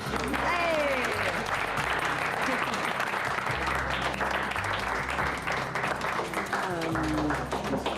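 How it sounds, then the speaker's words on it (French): Applause from a group of people, dense sustained clapping filling the whole stretch, with cheering and voices mixed in. "je propose qu'on m'applaudisse très très fort"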